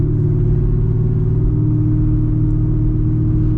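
A 900-horsepower Chevrolet Camaro ZL1 cruising along, its engine a constant, loud, deep drone with a steady mechanical whir and no voices.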